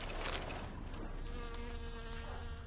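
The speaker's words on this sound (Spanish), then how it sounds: "Con las moscas por ahí y todo." Flies buzz in the video game The Witcher 3, a steady insect drone with wavering whine layered over constant game ambience, loud and continuous throughout.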